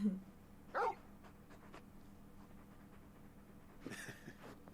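Large dog in the Final Fantasy XVI video game making brief whimpers and whines, faint against a quiet low background hum with some soft sounds in between.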